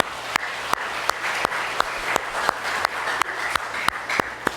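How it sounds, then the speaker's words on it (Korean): Church congregation applauding after a scripture reading, sharp regular claps in a steady beat, with a softer spread of clapping behind them, fairly loud and close. "우리 하나님께 영광의 박수를 올려드리겠습니다"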